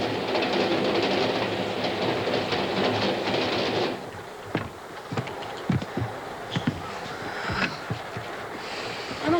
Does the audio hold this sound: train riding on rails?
yes